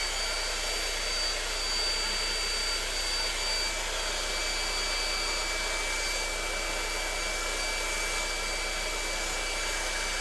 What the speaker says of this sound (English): I'll just get the hairdryer running on that